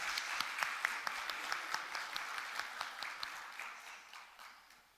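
Audience applause in a conference hall at a national emergency medicine congress, with dense steady clapping that gradually fades out across the clip.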